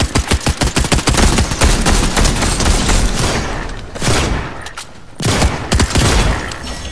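Heavy gunfire in Fortnite, loud rapid volleys of close shots in repeated bursts, with brief lulls between them and a final dense barrage.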